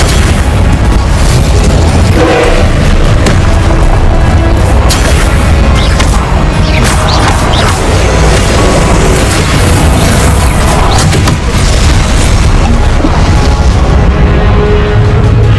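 Confringo blasting spells detonate again and again in Hogwarts Legacy, a dense, loud barrage of booming explosions and bursts with a constant low rumble and no pauses.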